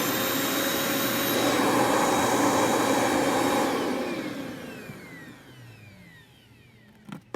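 A Eureka vacuum cleaner runs loud and steady with a broad whooshing roar and a high whine, then winds down over the last few seconds into quieter rustling and a couple of small knocks.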